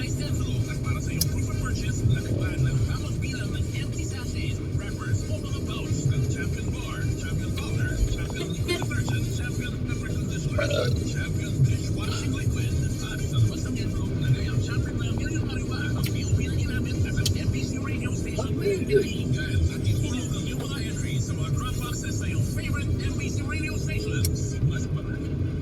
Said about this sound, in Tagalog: Traffic na dito.